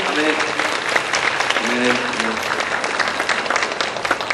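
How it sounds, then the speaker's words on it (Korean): Congregation applauding in a church service as a blessing, steady broadband clapping throughout with a voice speaking over it near the start and middle. "축복의 박수"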